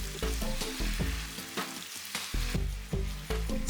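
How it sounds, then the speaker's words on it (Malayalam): Chicken pieces fry in hot refined oil in a steel pan over a medium flame, giving a loud, steady sizzle with repeated crackling bursts, close up and without talk. "സ്റ്റൗ മീഡിയം ഫ്ലെയിമിൽ തന്നെ വെച്ചിട്ട് 3 മിനിറ്റ് സമയം മാത്രം ഫ്രൈ ചെയ്തെടുക്കുക."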